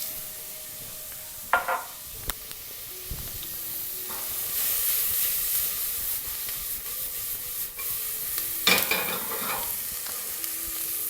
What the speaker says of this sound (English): they're going to sizzle away quite nicely in the pan with a little bit of butter